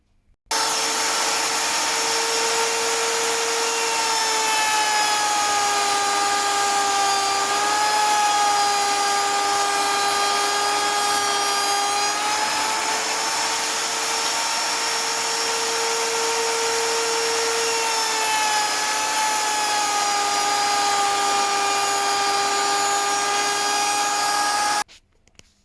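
A power tool, likely a router, cuts a rebate into the wood of a W. Watson studio camera under restoration, giving a loud steady whine with shifting pitch for about 25 seconds, with no talk over it.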